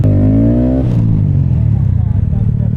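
Honda Grom motorcycle fitted with an Akrapovic sportbike exhaust revs loudly and close, a steady rising engine tone that drops after about a second into a rough, throbbing idle.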